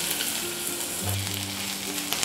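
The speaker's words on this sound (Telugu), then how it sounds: "ఉల్లిపాయలు బ్రౌన్ కలర్లోకి వచ్చే వరకు ఫ్రై చేసుకోవాలి" Chopped onions frying in a pan until brown give a steady, close sizzle with light crackle and a soft stir partway through.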